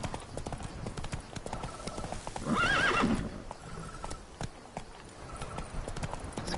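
Game horse in The Witcher 3 gallops with steady clip-clop hooves throughout, and a loud whinny rises in the middle before the hoofbeats carry on.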